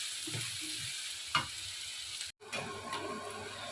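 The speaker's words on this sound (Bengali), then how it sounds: "রসুন আদাটা দিয়ে পেঁয়াজটা দিয়ে ভালো করে ফ্রাই করতে হবে" Onion, garlic and ginger fry steadily in a pan for an egg tarka, a continuous close sizzle with brief stirring scrapes and a short break partway through, no voices.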